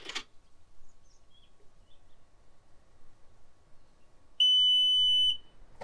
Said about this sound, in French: on va rester appuyé jusqu'à entendre plusieurs bips consécutifs pour régler la hauteur